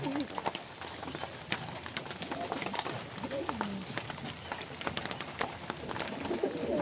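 Peacock and lakka pigeons at a pigeon farm coo and stir in a dense, continuous chorus of bird calls, scattered with small clicks and shuffling noises close by.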